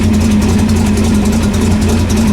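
A car engine idles steadily and fairly loudly nearby, a smooth low rumble holding an even note with no pauses, on a Chevrolet Biscayne being fitted with QA1 coilovers.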